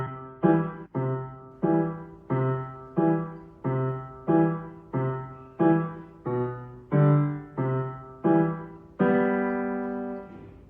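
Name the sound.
piano left-hand accompaniment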